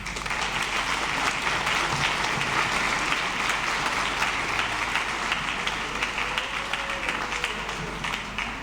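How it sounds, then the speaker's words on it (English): A big round of applause fills the hall at a middle school spring orchestra concert, steady, dense clapping from a large audience that carries on evenly throughout with only slight waning near the end. "please give Dr. Eddie Robinson, Christine Shells, and Craig Kingsley a big round of applause"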